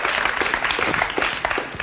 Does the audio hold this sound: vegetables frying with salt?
no